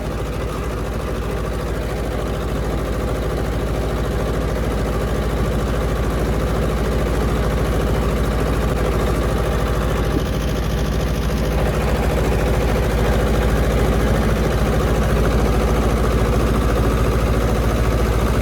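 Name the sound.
tractor engine running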